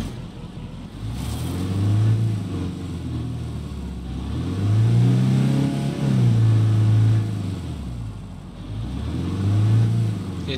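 SUV driving over rocky ground in State of Decay 2, engine revving up and easing off in repeated waves, loud and close, with no talk over it.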